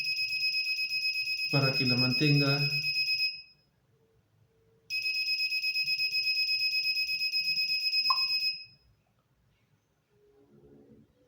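A Treacon home security alarm sounds after a door sensor alert, with two long loud beeping electronic bursts separated by a pause. Someone speaks Spanish briefly over the first burst.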